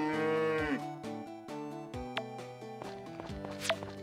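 Cartoonish cattle moo repeatedly in the farming video game Story of Seasons: Friends of Mineral Town, several short tonal calls overlapping with soft game chimes, clear and close with no speech.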